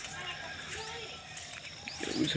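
Small birds chirp and call in calm, quiet outdoor surroundings near a forest, the faint scattered tweets rising slightly louder toward the end over soft ambient noise.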